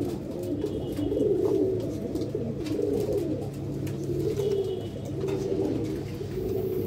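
Pet pigeons cooing nearby, soft repeated throaty coos rolling in overlapping waves over a steady background, with no talking.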